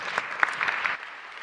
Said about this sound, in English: So I'd like us to give a big round of applause to all the speakers